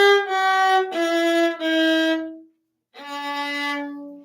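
A viola plays a short finger pattern with only a whole step between the second and third fingers: three sustained bowed notes in a row, a brief pause, then one more held note, clear and close.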